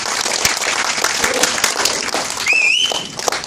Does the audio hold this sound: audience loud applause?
yes